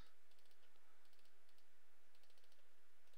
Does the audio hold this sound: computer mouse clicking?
yes